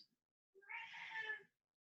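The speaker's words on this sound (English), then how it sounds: "sorry, my cat's in here." A house cat gives a single drawn-out meow, close and fairly quiet, in an otherwise silent room.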